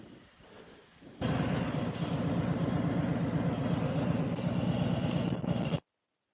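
Motorcycle engine revving as the throttle opens during a slow-speed U-turn with the clutch slipped, a loud sustained roar with a steady pulsing drone lasting several seconds, then cutting off.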